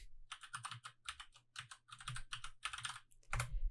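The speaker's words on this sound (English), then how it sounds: "so we type in our password, and now Windows will start up" Quick bursts of keystrokes on a computer keyboard as a password is entered, irregular clusters of clicky taps close up, with no voices.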